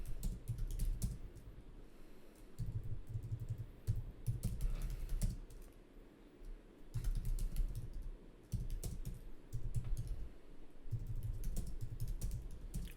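Steady typing on a computer keyboard in bursts of rapid key clicks separated by short pauses, close and clear with no talking.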